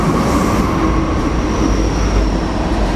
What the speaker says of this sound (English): No, that's a sand train.